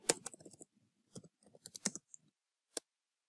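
Someone types a short npm command on a computer keyboard: a quick burst of close, crisp key clicks, a brief pause, another cluster of taps, then one final isolated keystroke like a press of Enter.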